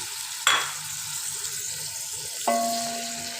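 Frozen beef mince sizzling in a hot pan, a steady hiss with two sharp clatters of a utensil against the pan, no one talking.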